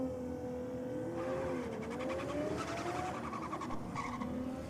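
A Toyota Supra race car with a 1J engine runs at a drag racing event, its engine note rising and falling as it revs under constant broadband roar, with brief tire-squeal-like textures and no talk.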